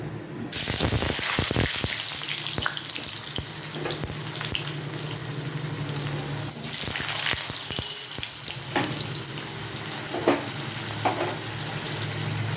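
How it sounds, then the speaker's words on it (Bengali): Potatoes drop into hot oil for a jackfruit curry, and a loud, steady frying sizzle starts at once and runs on, broken by occasional clicks and stirring scrapes. "এবার এর মধ্যে আমি আলুগুলো ছেড়ে দেবো"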